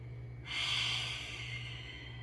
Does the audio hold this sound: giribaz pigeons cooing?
no